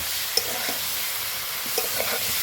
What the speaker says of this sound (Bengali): সবগুলো এখন ভালোভাবে আমি নাড়াচাড়া করে নেব।